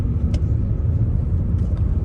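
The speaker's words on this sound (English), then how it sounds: "Okay, let's try braking." A 2013 Audi A4 2.0 TDI slows under braking while being driven, heard from inside the cabin as a steady, loud low road and engine rumble with a couple of faint higher clicks.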